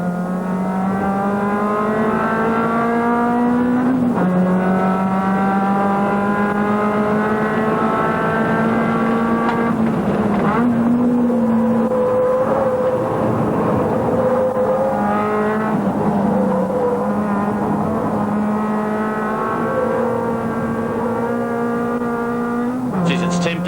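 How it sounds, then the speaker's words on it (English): Suzuki GTi race car engines drone loudly and continuously at Winton race track, pitch climbing through each gear and dropping at shifts, with a commentator's voice talking over the noise. "take in the sights and the sounds of the GTIs in action at Winton"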